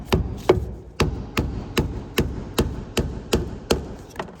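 Hammer tapping on the upper steering joint of a Ford F-150/F-250/F-350 truck, about a dozen evenly spaced sharp metallic taps roughly every third of a second, close and clear with no talk.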